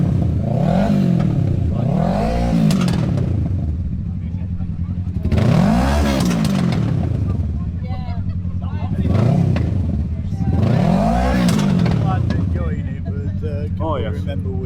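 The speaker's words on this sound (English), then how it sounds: "Absolutely no reason for exhaust that loud on one of them." A loud motorcycle exhaust revs repeatedly in rising and falling sweeps, close by and dominant, with a brief lull between bursts.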